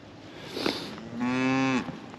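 Cattle moo during fence weaning of replacement heifers on a farm. A long, loud, harmonic low moo rises out of the field noise after a brief fainter call, then fades into outdoor background.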